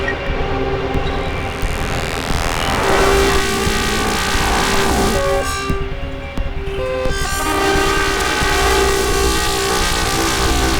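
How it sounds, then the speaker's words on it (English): Harsh, dense electronic noise from a modular synthesizer patched through a matrix mixer: loud and continuous, with grinding static and shifting, horn-like tones that wobble in and out over about ten seconds, no voices. "these are the strangest sounds I've ever heard from a modular"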